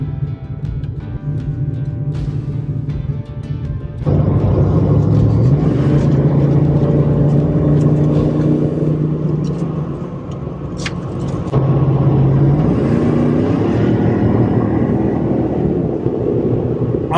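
Steady low road rumble and wind noise fill a truck cab fitted with sound-deadening treatment, with engine pitch rising and falling as it shifts and accelerates; no talking.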